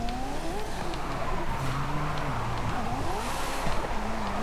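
A Ferrari F40 built for drifting in Forza Horizon 5 slides with a continuous engine roar, wavering tire squeal and shifting revs, loud and close with no voices.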